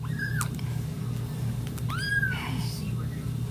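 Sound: kitten meowing

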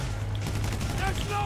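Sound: gunfire in the video game GTA 5

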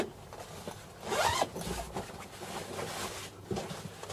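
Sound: zipper opening roof storage section

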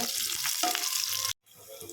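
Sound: green chilies sautéing in hot oil

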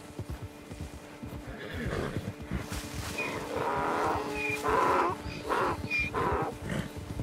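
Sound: donkey neighing in video game Red Dead Redemption 2

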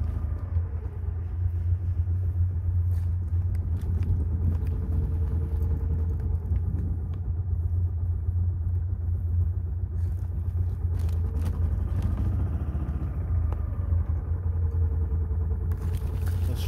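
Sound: Club Car golf cart engine idling after cold start

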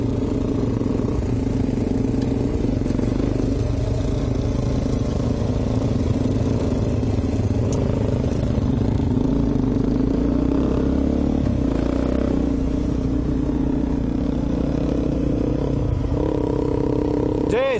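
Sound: Suzuki DR650 dual sport motorcycle engine riding

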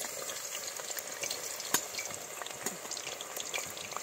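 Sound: plantain pieces frying in hot coconut oil

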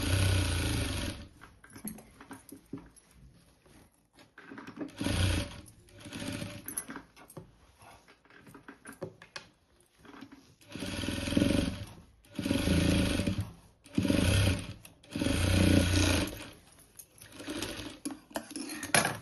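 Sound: sewing machine stitching a princess-cut blouse corner

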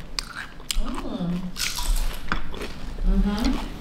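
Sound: biting and chewing crab cream cheese food

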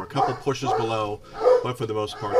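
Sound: dogs barking

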